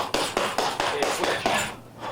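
Rapid punches strike a punching bag during a burnout drill, about seven sharp thuds in quick even rhythm, close and loud, then stopping.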